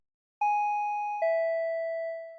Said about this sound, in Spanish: Sonó el timbre.